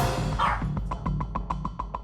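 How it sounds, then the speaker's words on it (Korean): A small pet dog named Kongi suddenly barks indoors at home as relatives get up to leave, giving a quick, regular run of short, sharp yaps close by. "엄마가 깨어난 후 친척들이 돌아가려고 일어서자 갑자기 짖어대기 시작하는 콩이"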